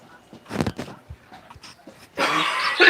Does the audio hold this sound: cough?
yes